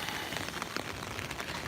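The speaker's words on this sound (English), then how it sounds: "I'm wearing a jacket just because it's raining" Steady rain falls in New York City, a dense, even hiss of drops pattering on hard surfaces close by, continuous and fairly loud with no voices.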